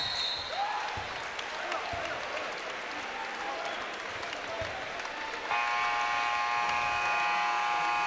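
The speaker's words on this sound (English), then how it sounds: "Crowd on their feet after the latest Kyle Davis slam" Basketball arena crowd at a The Basketball Tournament game, Red Scare vs The Region, roars and applauds on its feet after a slam dunk, a sustained wash of cheering that swells louder near the end, with a buzzing tone over it.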